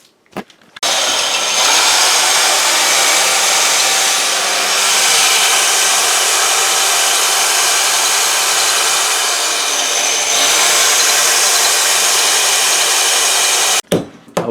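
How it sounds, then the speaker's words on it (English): A power drill bores through a house's brick wall with a loud, sustained grinding whine lasting about thirteen seconds, pitch wavering slightly under load, with brief knocks at start and finish. "we're going to have to drill and cut a hole through the brick to get to the outside of the house"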